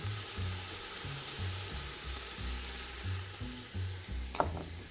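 Pieces of pork browning in a pan for a mustard pork sauté, a steady close sizzle with rhythmic low scraping as the meat is stirred, and a brief clink near the end.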